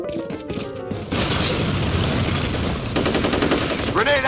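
A grenade blast and gunfire in the F.E.A.R. video game: a loud burst of rattling automatic fire and booms goes on steadily after a brief quieter opening, ending with other game sounds.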